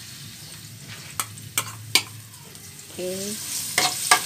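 Garlic sizzles softly in oil for simple fried rice while a spatula stirs it, landing a few sharp clacks and scrapes near at hand; a voice speaks briefly.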